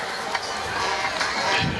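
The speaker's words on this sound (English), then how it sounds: "the partisan crowd across the way has something to cheer about tonight" Partisan crowd at a 1997 high school football game, Wellington Dukes against Keystone Wildcats, cheering steadily from across the field, a dense wash of shouting voices with brief swells and no clear individual words.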